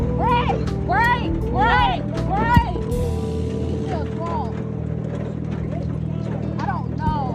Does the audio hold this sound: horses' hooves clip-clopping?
yes